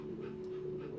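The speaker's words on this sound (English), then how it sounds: "hey, there's a dog." A dog in the video game That Dragon, Cancer pants softly, with quick faint breaths over a steady low hum and no speech.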